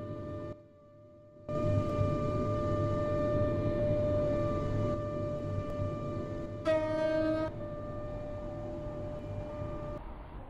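A five-coach class 802 train in the Stepford County Railway game running between airport stations, a steady hum of traction motors and rolling wheels with a brief two-tone horn blast partway through, heard alone.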